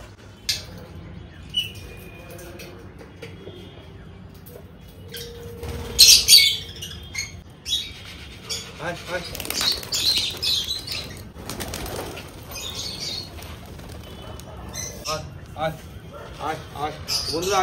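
Pigeons in a colony flap their wings in several loud bursts, strongest around the middle, with faint chirps and cooing throughout and a person talking now and then.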